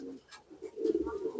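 A pigeon, a hen about to lay eggs, gives a soft, low cooing call nearby, brief and faint against quiet surroundings.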